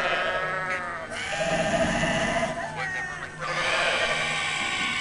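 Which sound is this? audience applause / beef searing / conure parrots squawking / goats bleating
goats bleating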